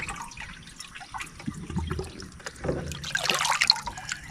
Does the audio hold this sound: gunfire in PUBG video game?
no